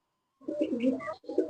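After a moment of quiet, a male pigeon coos nearby in a soft throaty burble, pausing briefly before starting another coo.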